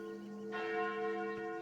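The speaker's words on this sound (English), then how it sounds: "Those sound like the church's noontime bells." Church bells ring at noon in the horror dating game Sucker For Love, a sustained resonant toll with a second strike swelling in partway, steady and clear with no talk.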